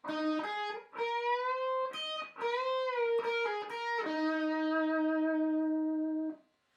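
An electric guitar plays a sustained solo riff from a song with bent notes and a long held final note, smooth and singing tone, no talking.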